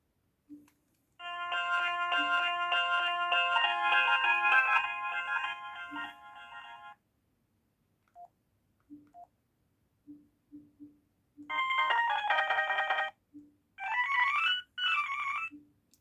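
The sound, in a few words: Alcatel slider mobile phone ringtone, probably OT-E260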